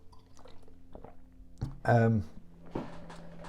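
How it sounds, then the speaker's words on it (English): Someone takes a close sip of water, with a brief wet slurp and swallow amid quiet room tone and small mouth sounds. "I'm just gonna have a sip of water"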